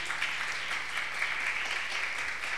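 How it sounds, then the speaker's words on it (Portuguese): A congregation at a Catholic evening praise service applauds after the Gospel reading, a steady wash of clapping throughout, moderately loud and without speech. "Vamos aplaudir a palavra de Deus."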